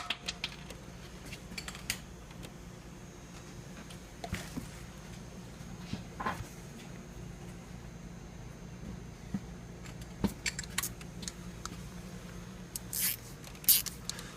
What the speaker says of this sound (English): put the bolt all the way in, and then tighten it